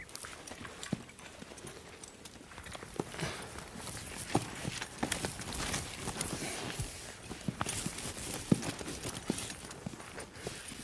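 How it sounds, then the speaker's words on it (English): Horses walking on the ground, a soft, irregular clip-clop of hooves heard faintly amid steady outdoor background noise, with scattered sharper hoof strikes. "As a comfort to the young stallion, Brian has corralled several other horses."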